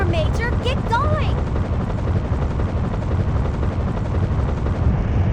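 Loud, steady helicopter rotor roar and rumble from the Metal Slug 3D video game, continuous throughout with brief voiced game lines over the start.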